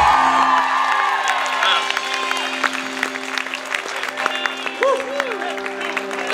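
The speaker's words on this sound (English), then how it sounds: "Let's give him a round of applause again" Audience applause and cheering after a marriage proposal, with scattered whoops and excited voices rising over steady clapping from a close, lively crowd, a tonal hum sustained underneath throughout.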